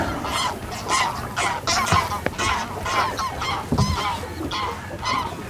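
Many wild geese honk in a busy, overlapping chorus, calls coming in quick irregular bursts against a constant outdoor rumble, in the Nyzhnovorsklianskyi Regional Park, Ukraine.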